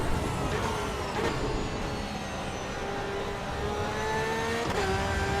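A Porsche race car's engine in a racing video game revs and shifts steadily, its whining pitch rising and falling through gear changes, loud and continuous with no talking.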